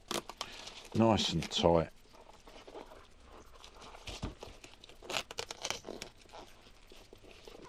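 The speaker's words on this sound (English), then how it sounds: "what I'm going to do is put some tape round" Tape wrapped tightly around a drysuit sock gives crinkling, tearing sounds, loudest in two quick bursts early on and then fainter handling, with a person speaking briefly.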